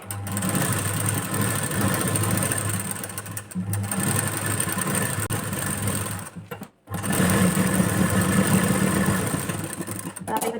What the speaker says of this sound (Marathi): जिथं आपला हाफ इंचाचा पॉईंट मॅच होतोय तिथपासून आपल्याला शिलाई सुरू करायची आहे